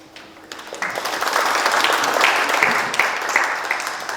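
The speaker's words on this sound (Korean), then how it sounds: "다시 한번 발표해 주셨던 우리 박찬우 우리 추진단장에게 큰 박수 한번 부탁드리겠습니다" Sustained applause from the audience at an aviation policy advisory committee meeting for the new Daegu-Gyeongbuk integrated airport, honouring the presenter. It swells quickly after a quiet start and holds steady as dense, close clapping for about four seconds.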